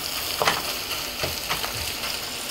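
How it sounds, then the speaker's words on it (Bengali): Rohu fish roe frying with spices in a pan, a close, dense sizzle broken by several soft spatula scrapes and stirs, with no voices over it. "এভাবে আরও মিনিট দুয়েক আমি এভাবে ভেজে নেব।"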